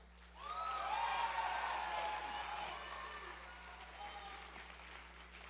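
An audience at the Cégeps en spectacle student performance show applauds and cheers as the evening opens, a broad wash of clapping swelling quickly, holding, then slowly easing, with a steady low hum underneath.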